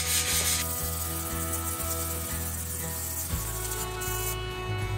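400-grit sandpaper rubs by hand over the first coat of finish during a kitchen renovation, a continuous close scratchy swishing with a steady hum behind it, and no talking.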